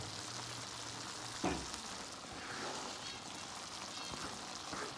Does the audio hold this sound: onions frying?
yes